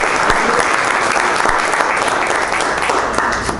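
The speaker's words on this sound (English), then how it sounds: "So another round of applause, please," An audience at a Jordan Brand design talk evening gives loud, sustained applause, a thick and continuous wash of many hands clapping close by.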